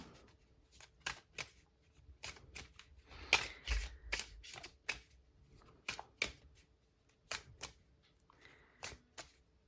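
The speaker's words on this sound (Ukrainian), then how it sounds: "Інші аркани ми тасуємо, перемішуємо" Tarot cards being shuffled up close, a series of quick crisp riffles and soft slaps in irregular bursts, quiet with no voices.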